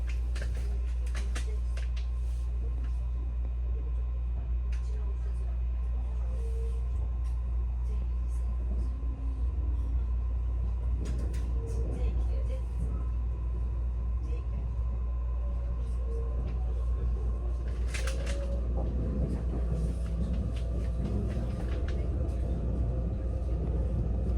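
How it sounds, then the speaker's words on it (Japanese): A low, continuous rumble of the Date SATONO sightseeing train in motion toward Onagawa Station, heard from inside the carriage, steady throughout with faint rattles and clicks. "列車は終点の女川駅に向けて出発しました"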